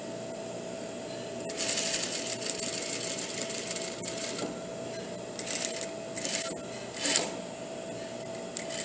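A sewing machine runs a quarter-inch seam along a shirt collar, its needle clattering in a steady close rhythm with a faint mechanical whine underneath and brief pauses and speed changes.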